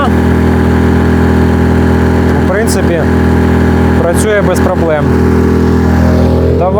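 An EcoFlow dual-fuel generator engine running under load, a loud steady close drone with constant hum, while someone talks over it in bursts.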